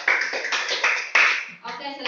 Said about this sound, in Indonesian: Oke, pintar, tepuk tangan dulu.